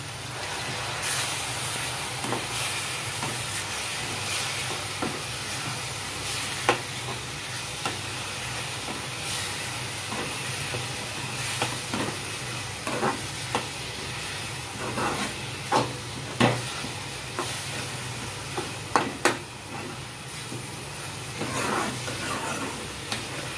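Chickpea chole masala stirred and mashed in hot oil, a steady frying hiss with irregular scraping and tapping of the spoon against the pan, no voices.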